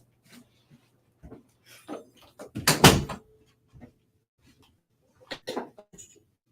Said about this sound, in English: oh, I forgot to close the door